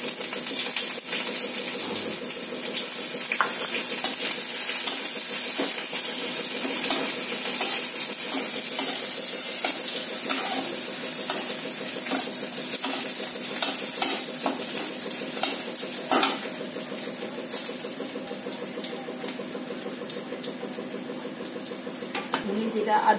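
Chopped onion and onion-garlic paste frying in oil, a continuous close sizzle with scattered scraping and stirring noises running throughout, while a voice talks over it at times.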